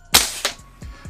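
An Umarex HK M27 IAR gas blowback airsoft rifle fires two sharp, close cracks a fraction of a second apart, followed by fainter mechanical clacks of the action cycling.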